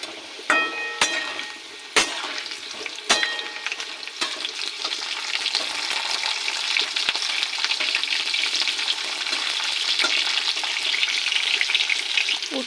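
Bitter gourd fries in oil alongside potatoes, a few metallic clinks and stirring knocks at first, then a continuous close, loud sizzle building and holding to the end.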